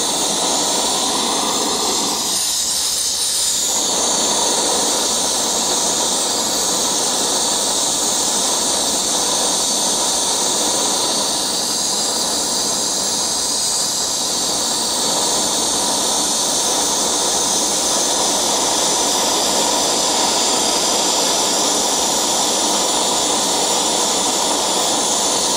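Portable LighTake camping stove burning under a windscreen with a steady, loud roaring hiss that surges slightly in strength over a long stretch, close by with no talking.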